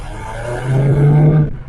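A Talbot Samba car engine drones steadily as it pulls up a hill, a close, low hum that swells slightly partway through the short stretch.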